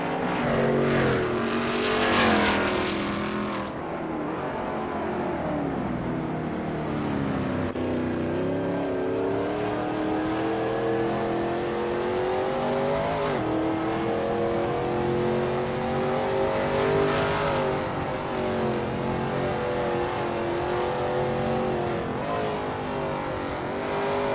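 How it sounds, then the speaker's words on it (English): A Veloce GTS-8 race car engine in a racing video game drones steadily on an outlap at Maple Valley, revving up and down through gear changes, loud and continuous with no talk. "Kevin Lekmansky is on his outlap, warming up the tires and getting ready to put in a fast lap time."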